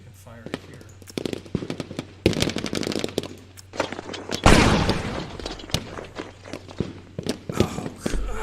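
Rapid gunfire from a unit in a tabletop-style war game, irregular cracks and bursts with a dense volley in the middle, mixed with talking and a low steady hum.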